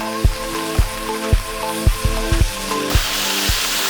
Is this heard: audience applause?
no